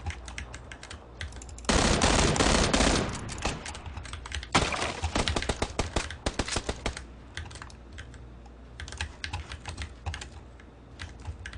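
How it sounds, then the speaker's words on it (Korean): Gunfire in PlayerUnknown's Battlegrounds comes in sudden loud bursts of rapid shots, mixed with close clattering keyboard typing that keeps rattling after the firing dies down. "누가 쏜다."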